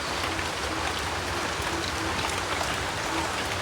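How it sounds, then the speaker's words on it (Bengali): Steady rain falls outside as an even, dense hiss of drops on surfaces, continuous and moderately near without pauses or voices. "সকাল থেকে আপনার বৃষ্টি হচ্ছে আপনার রাতের 3টা বাজার থেকে বৃষ্টি হচ্ছে"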